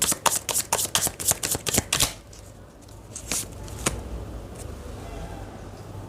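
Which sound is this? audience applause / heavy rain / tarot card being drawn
tarot card being drawn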